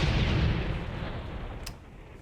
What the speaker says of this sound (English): I think the German mine might go off